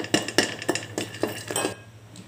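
Candlenuts are dry-roasted in a pan, giving a rapid series of sharp clinks and rattles, about seven distinct knocks with a faint background hum.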